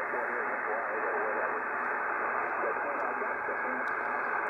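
A ham radio receiver puts out a steady, loud, high-pitched hiss of hash noise that fills the whole stretch without a break, close and continuous.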